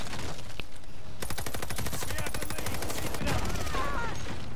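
Rapid automatic gunfire from a Call of Duty match, dense bursts of shots with a tank approaching amid the firefight, loud and continuous over background game noise.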